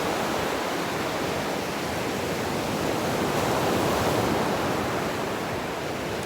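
Steady, broadband roar of ocean surf washing onto a beach, continuous and fairly loud with no distinct breaks between waves and no voices.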